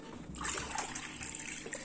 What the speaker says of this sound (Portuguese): eu vou colocar mais água.